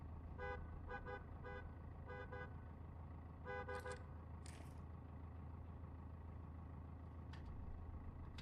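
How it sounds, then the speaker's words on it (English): Several short vehicle horn toots in a video game sound in quick bursts over a constant low engine drone, fairly faint and a little distant. "Which button honks the horn?"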